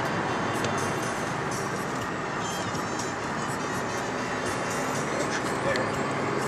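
Inside a car speeding along a winding, bumpy mountain road in Andorra, a dense, steady roar of engine and road noise fills every moment, with voices mixed into the din.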